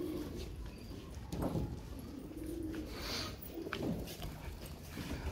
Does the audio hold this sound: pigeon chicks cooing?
yes